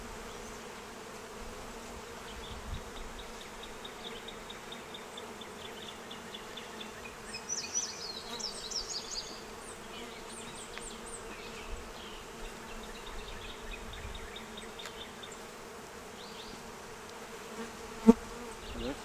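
Honeybees buzz continuously around an open beehive during a hive inspection, with some bees droning close by and passing near, amid faint handling noises and one sharp knock.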